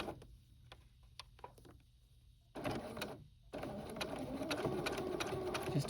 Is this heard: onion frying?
no